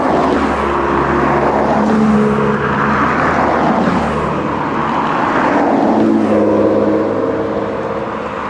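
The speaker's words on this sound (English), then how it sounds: "Japanese car clubs that go on drives. It's just like one after another." Japanese car club cars drive past one after another on a road near Mt. Fuji, Japan, their engines blending into a loud, continuous roar that rises and shifts as each car passes close by.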